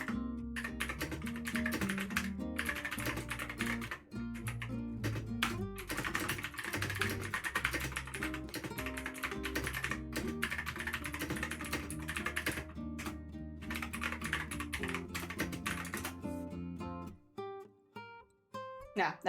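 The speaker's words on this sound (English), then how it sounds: "Hearing keyboard" Rapid computer-keyboard typing clatters through a livestream, sitting beneath steady loud background music for most of the stretch before the music thins out near the end.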